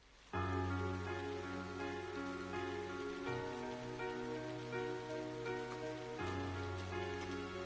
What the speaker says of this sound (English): With summer well underway, a rainy spell seemed to hang over Trista.